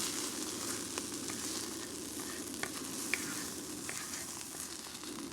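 Food cooks on a griddle under a lid, giving a continuous close sizzle with scattered small pops and ticks, steady and moderately quiet throughout, without talk.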